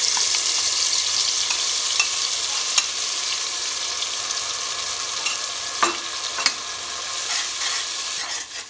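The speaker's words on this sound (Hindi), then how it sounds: "मसाला को कुछ सेकंड भूनना है" Special masala paste for aloo dum biryani sizzles in hot oil in a pan, a steady close frying hiss broken by a few sharp clicks of stirring.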